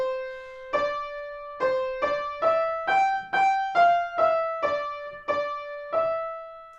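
Learning-track melody for soprano and alto voices played as a sequence of about ten clear sustained notes, each struck separately with a short gap, stepping up and back down in pitch, bright and close with nothing else heard.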